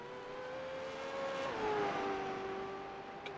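V8 Supercar Gen3 engine in a sim racing game, a steady droning engine note that holds pitch, dips slightly after a shift midway, then settles, heard alone at moderate level.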